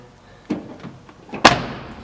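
The passenger door of a K5 Blazer is swung and shut, a softer thump followed by a sharp, loud metallic slam that rings briefly.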